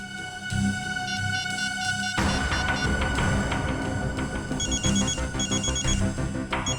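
A mobile phone rings steadily with a repeating electronic ringtone, its pattern cycling throughout, loud and close, with no voices over it.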